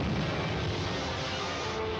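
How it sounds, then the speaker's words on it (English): Ray gun firing in a radio drama, a sustained roaring, rumbling blast effect that stays loud and even for about two seconds with no voices over it. "Firing ray gun."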